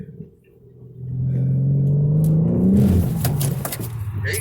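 A car engine rumbles steadily while driving, rising into a sustained revving drone that holds loud and close before easing slightly at the end.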